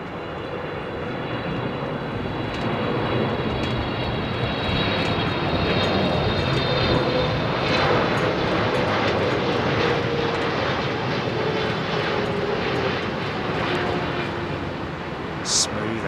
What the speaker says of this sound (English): It's a nice big juicy 777. Looks like Japan Airlines.